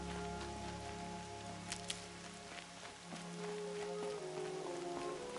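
Rain falling in the video game Horizon Zero Dawn, a steady soft patter of drops on surfaces, fairly quiet and constant, with faint ambient tones beneath it.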